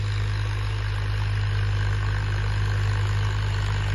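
A tractor engine idles in a village field, a steady, close, low droning hum that holds without change from start to finish.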